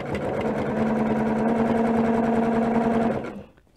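A sewing machine runs steadily at speed for about three seconds, zigzag stitching already quilted strips together, a close, even mechanical whir that stops abruptly.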